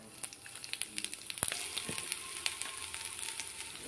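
Cumin seeds dropped into two tablespoons of hot oil with star anise, cloves and cardamom, giving a close, steady sizzle dotted with sharp little pops and crackles.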